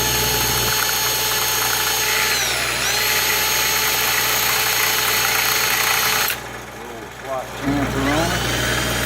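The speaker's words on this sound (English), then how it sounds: "had to put that back in the drill" A power drill spins a carburetor tube in a home repair, a steady loud whirring motor hum with a brief dip in the middle, while someone talks over it.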